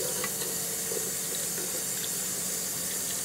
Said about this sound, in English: and rinse it off in water.